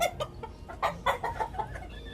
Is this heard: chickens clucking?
yes